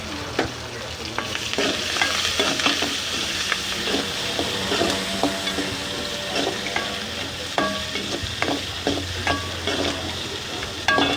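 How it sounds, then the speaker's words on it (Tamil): Onion, dried red chili and curry leaves sauté in a pan with a steady, close sizzle. Repeated stirring scrapes and taps punctuate the frying throughout. "வெங்காயம் வரமிளகா கருவேப்பிலை போட்டுக்கலாம் வெங்காயம் நல்லா வணக்கி விட்ருங்க"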